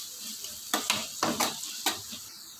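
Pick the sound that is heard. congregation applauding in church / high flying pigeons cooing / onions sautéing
onions sautéing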